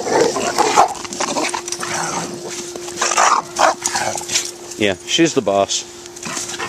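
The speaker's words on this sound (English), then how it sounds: "And then here's the guard dog." Boxer dogs playing in a backyard give yips and short barks, with brief bursts near the end, while people talk over them and a steady tone hums beneath.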